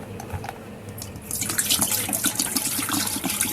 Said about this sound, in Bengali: আমি এই বোতল মেপে এখানে 3 বোতল জল দেব।